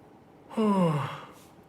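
A man yawns once during a live football reaction stream after Liverpool versus Chelsea, a drawn-out breathy sigh that rises and falls over about a second, close to the microphone with no talk over it.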